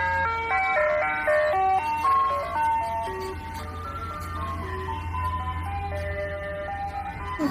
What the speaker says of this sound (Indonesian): Yang ini truk es krim.